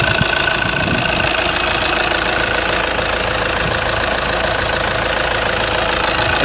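2014 Chevrolet Cruze engine running at a steady idle, close and loud, with a constant broadband rumble and faint ticking throughout, no talk.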